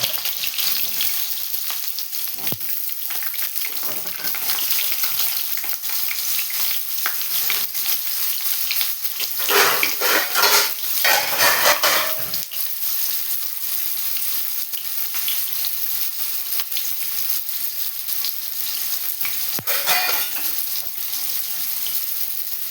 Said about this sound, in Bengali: কড়াইটা গরম হয়ে গেলে তেলটা দিয়ে দিলাম আলু ভাজার জন্য।